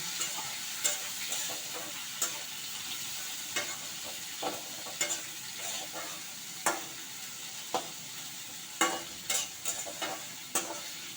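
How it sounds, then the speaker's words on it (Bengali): Onions frying lightly in a pan, a soft steady sizzle punctuated by regular spoon taps and scrapes against the metal as they are stirred. "এবার এটাকে আমি হালকা ফ্রাই করে নেব।"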